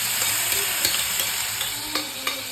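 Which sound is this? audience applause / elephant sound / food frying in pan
food frying in pan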